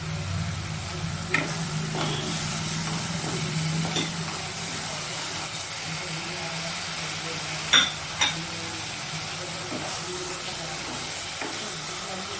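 Slit green chillies and garam masala fry in hot oil, giving a steady close sizzle and hiss with a few sharp stirring clinks of a utensil against the pan.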